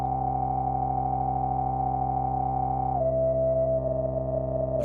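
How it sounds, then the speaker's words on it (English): A synthesizer filter pushed to high resonance self-oscillates into a pure, sustained sine-like tone, holding steady and then stepping down slightly in pitch, loud and alone. "What you're hearing there is self-oscillation."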